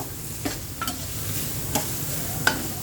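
Ginger is lightly sautéed in a pan, a steady sizzle punctuated by a few sharp spatula scrapes and taps as it is stirred.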